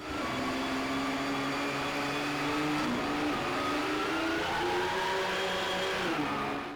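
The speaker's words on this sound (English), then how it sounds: "only a horrific roaring engine running the entire time" A race car engine in the N64 racing game GT 64: Championship Edition roars and drones steadily and loudly, its pitch shifting slightly throughout, with no other sounds.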